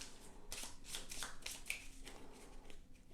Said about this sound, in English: Then starting with the level 2 cards, you're going to shuffle these up.